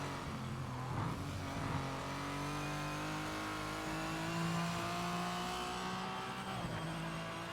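A race car engine in a racing video game whines continuously, revs climbing and easing in gradual sweeps with occasional tire squeal, fairly quiet and alone without talk.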